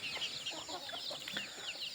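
Native country chickens on a farm clucking and calling in short, overlapping bursts, fairly close, with no talk over them.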